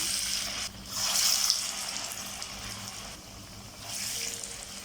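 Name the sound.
green gram dal vada frying in hot oil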